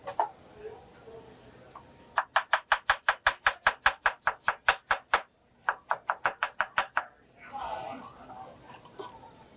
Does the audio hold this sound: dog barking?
no